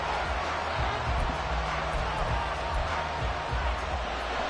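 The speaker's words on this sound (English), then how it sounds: "This crowd doing all they can." A football stadium crowd roars steadily at a distance during a goal-line stand, a broad, continuous wash of cheering with a commentator talking over it.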